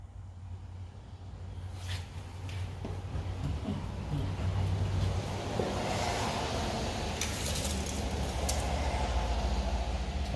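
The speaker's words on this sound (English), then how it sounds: "Let's let all the air out and see how far down it droops." Air rushes out of the air shocks on an 8th-generation Honda Civic as a broad, steady hiss that swells after a couple of seconds and keeps going, over a low rumble.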